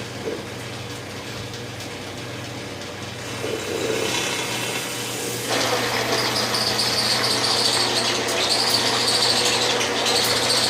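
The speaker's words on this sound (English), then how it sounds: "Alright, so the motor's up to speed now. I'm going to slip over here and I'm going to engage the clutch." A Cochrane Bly machine's motor runs at speed with a steady hum, and partway through the clutch engages, bringing in a louder, brighter mechanical whir that continues to the end.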